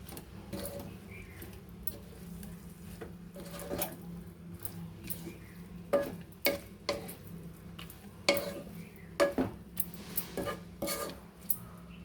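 Spinach frying in oil, heard as a low steady sizzle with repeated clinks of a spoon scraping and tapping the pan, sharper in the second half, with no talking.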